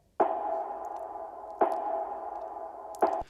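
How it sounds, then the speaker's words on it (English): Three hits of the LS Dream Filtered Snare Verb sample, a reverbed long snare, each a sharp attack followed by a long sustained washy tail, evenly spaced and loud, with no talk. "One is called the LS Dream Filtered Snare Verb"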